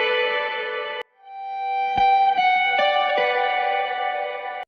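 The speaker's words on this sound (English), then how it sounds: "A guitar fill for ear candy." A sustained, heavily reverberant guitar fill in a melodic electronic track rings out with sharp plucked attacks and long echoing tails, briefly cutting out before swelling back in.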